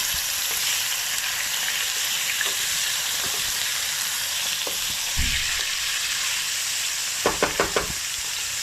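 Loud steady sizzling of large chicken pieces frying in a pan, with a few stirring clinks and scrapes near the end, no talking.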